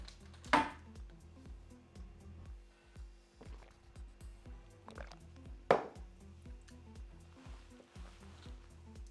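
A knife chops carrots into strips on a board in a home kitchen, with irregular sharp cuts, some louder than others, set against quiet room background.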